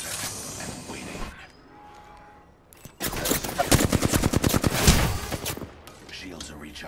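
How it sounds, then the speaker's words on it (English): Rapid bursts of automatic gunfire in the Apex Legends battle royale shooter, loud and dense after a quieter stretch, crackling in fast repeated volleys close by, with game voice lines in between. "They're shooting us."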